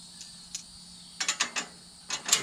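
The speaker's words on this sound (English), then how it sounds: "Just going to drop these through there" Bolts and washers dropped through the holes of a Buyers LT 40 trimmer line spool rack make small metallic clinks and rattles, a few scattered ones and then a quick cluster. Up close and fairly quiet, with no talk.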